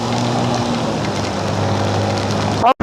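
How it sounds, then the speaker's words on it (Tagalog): Steady soft patter of light rain with a constant low hum underneath, ending in a brief abrupt rustle and a moment of silence. "Tama na yung ganitong ulan-ulan lang"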